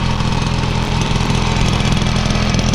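A Honda Spree scooter engine fitted with a big bore kit and a homemade carburetor idles steadily and loudly close by, a continuous buzzing putter with no talk.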